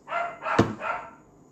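Dogs bark loudly and close, three rough barks in quick succession with a sharp knock in the middle, then fading to quiet.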